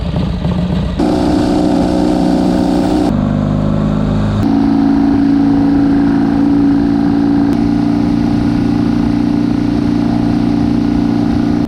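A vintage motorcycle engine drones loud and close while being ridden hard, holding steady with a few abrupt shifts in pitch as gears change. Wind buffets the rider throughout.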